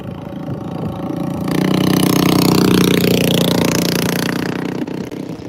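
Small junior motorbikes ridden by kids buzz past, a mid-pitched engine drone swelling loud as they pass close and then easing off, with no talking.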